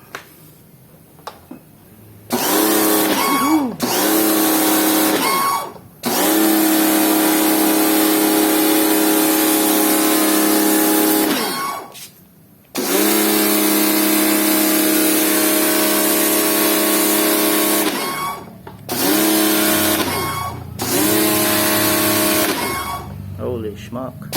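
Kawasaki HPW-302 power pressure washer running in loud, steady bursts with a tonal motor hum, cutting out briefly between long runs and restarting several times, with a wide nozzle fitted.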